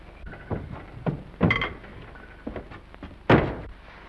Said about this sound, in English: Will you close this door